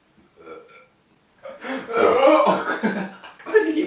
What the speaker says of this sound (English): Why did you keep burping?